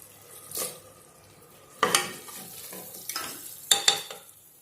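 Tomatoes added to ginger garlic frying in a pan for quail biryani: soft sizzling under a few sharp scrapes and clinks of a spoon stirring against the pan, quiet overall with no voices.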